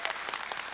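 A live audience at a community capstone presentation claps in a brief, dense burst of applause that fills the room evenly, without speech over it.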